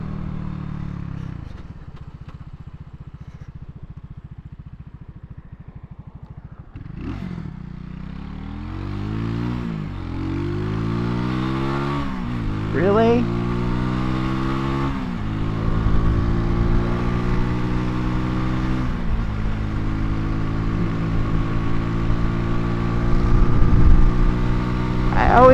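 A motorcycle cruises down a highway on a hot day, its engine droning steadily and climbing through repeated gear changes, with wind rumble underneath and a voice talking over it.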